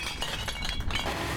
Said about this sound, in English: take all the empty bottles and dump them